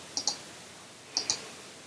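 Two quick pairs of light key clicks on a computer keyboard, close and crisp, separated by about a second of quiet room hiss.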